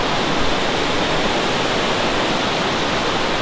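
Rushing river torrents in the Costa Rican jungle, seen from above, make a dense, steady roar of water that stays loud and unbroken throughout, with no voices.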